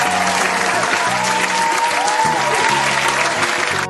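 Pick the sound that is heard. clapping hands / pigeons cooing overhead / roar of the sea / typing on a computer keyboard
clapping hands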